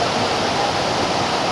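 Floodwater rushing across farm fields in Mudkhed taluka makes a loud, steady broadband roar with no breaks, close and continuous, no voices.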